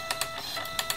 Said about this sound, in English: we can look at that by printing the stack